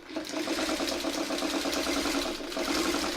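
A sewing machine stitches fabric in a fast, steady mechanical chatter of rapid repeated needle strokes, close and continuous for the whole stretch with no talking.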